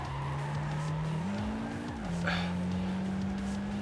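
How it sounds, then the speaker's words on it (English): A Trueno drifts in Gran Turismo 5 with a sustained engine drone that climbs and dips in pitch as the tires squeal through the slide, all at a steady, moderate level. "Oh, inertia drift."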